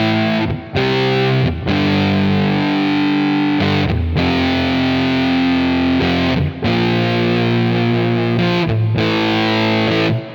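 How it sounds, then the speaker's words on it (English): An electric guitar runs through the fuzz effect of a Quad Cortex, giving a thick, heavily saturated tone with high gain. Long sustained notes and chords ring loud and alone, broken by short gaps between phrases. "I find the fuzz on the Quad Cortex is like, has way too much gain on it"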